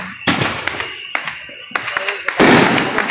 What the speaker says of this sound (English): enjoy the fireworks!